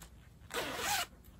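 A zipper on a crocheted bag pulled once in a quick, close rasping stroke lasting about half a second, set in a quiet room.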